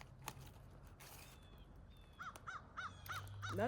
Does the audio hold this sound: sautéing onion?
no